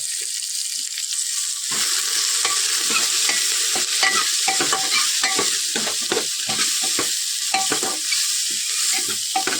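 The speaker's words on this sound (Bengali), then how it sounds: "পেঁয়াজ বেশি দিতে হবে পেঁয়াজ এবং লাড়তে থাকবে" Coarse-chopped onions frying for ghugni curry, a constant loud sizzle broken by repeated rhythmic scrapes and knocks of a spoon stirring through the pan, close up with no voices.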